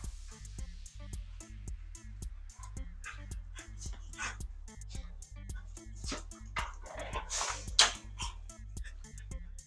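Pet dogs at home bark in quick repeated yips and whimper while waiting to be fed, a steady rhythmic run of short barks up close.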